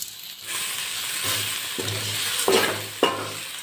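Tamarind, turmeric and salt sauté in a hot pan for thoothuvalai thuvaiyal, a loud close sizzle broken by several distinct stirring scrapes, with no voices.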